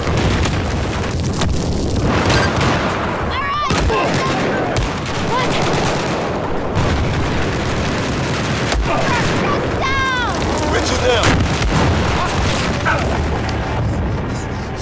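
Detonator explosions in the video game Battlefield 4, set in Singapore, with repeated booming blasts and gunfire bursts in a busy, loud battle soundscape, with voices underneath.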